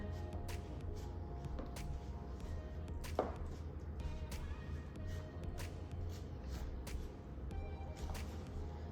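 A spoon works through thick chocolate apple cake batter in a bowl, giving soft, irregular scraping and knocking strokes. The sound is faint and close, over a low steady hum, with a sharper clunk partway through.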